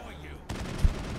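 Gunfire in the Mass Effect 1 video game, a sudden burst of rapid shots kicking in midway with one heavier thump, loud and close over game sound.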